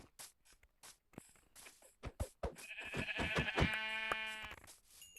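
Sheep bleat several times in a video game after some soft tapping and clicks, ending in a long, wavering bleat close up.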